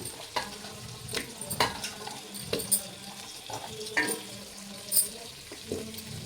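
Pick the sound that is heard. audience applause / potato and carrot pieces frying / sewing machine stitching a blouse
potato and carrot pieces frying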